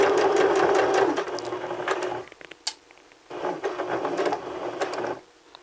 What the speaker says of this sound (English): So sew up to that point and stop.